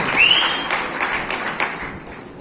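A hall audience at a guest talk claps in a dense, continuous burst of applause, fairly close and loud, tapering off slightly over a couple of seconds.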